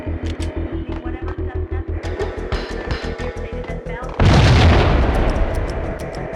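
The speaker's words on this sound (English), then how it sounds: "Let's throw a grenade." A grenade blast in the 2001 PS2 game Max Payne bursts loudly out of a rapid, rhythmic gunfire and game-music bed, a sudden wide explosion that then slowly decays with rumbling debris.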